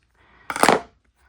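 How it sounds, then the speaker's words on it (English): Scissors snip notches into the curved seam allowance of a leather sling, making one short, close crunching cut with no talking. "I'm cutting notches into this curved portion."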